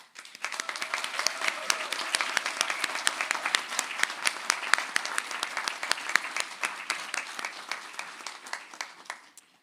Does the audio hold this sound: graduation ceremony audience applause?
yes